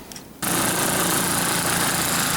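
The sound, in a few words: snowblower engine running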